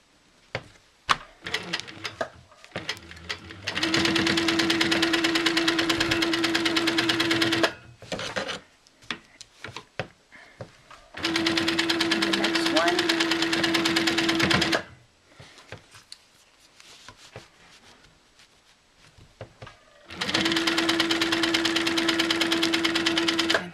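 A sewing machine stitches a mini quilt in three sustained bursts of steady whirring, each running several seconds with a constant motor hum, separated by quieter pauses filled with handling noise.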